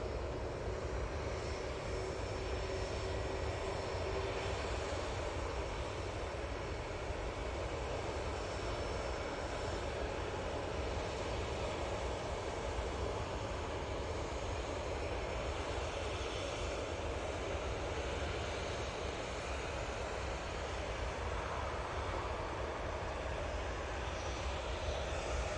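An EasyJet airliner rolls for takeoff at Manchester Airport, a faint, distant, steady engine roar with broadband rumble that holds evenly throughout without voices.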